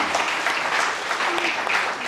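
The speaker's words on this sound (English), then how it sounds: "Can you give a round of applause for inspiring the journey of ma'am?" An audience at a university fireside chat with a CEO claps steadily for about two seconds, a dense, even wash of applause with no voices over it.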